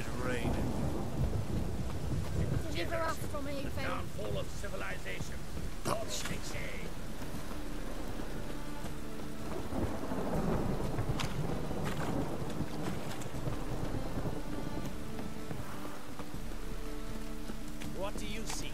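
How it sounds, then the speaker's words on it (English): Magically conjured rain and thunder in The Witcher 3: Wild Hunt: a dense wash of heavy rainfall with deep rolling thunder rumbles, persistent and loud, under dramatic spoken dialogue. "conjured rain"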